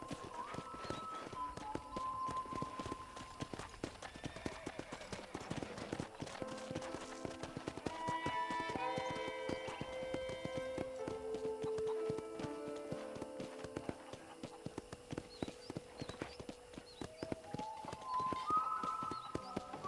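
Hooves of a horse in Red Dead Redemption clip-clop in a steady galloping rhythm under continuous background music.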